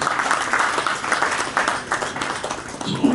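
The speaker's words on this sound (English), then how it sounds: "A round of applause." Scattered applause from attendees at a pest control product launch and training event in Nigeria, a brief, moderately loud round of clapping with uneven rhythm lasting a few seconds.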